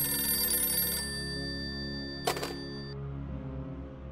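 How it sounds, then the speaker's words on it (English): Telephone bell ringing over a steady electronic hum, a bright metallic ring sounding in the first second and again in a short burst later, fairly loud and near. "it wasn't long before the phone started ringing off the hook"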